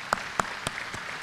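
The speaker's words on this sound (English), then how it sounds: "That deserves a round of applause just right there" Claps ring out at a chamber of commerce luncheon in Pasco, Washington, four distinct hand claps spaced roughly evenly, the earliest loudest and the last ones fading faintly.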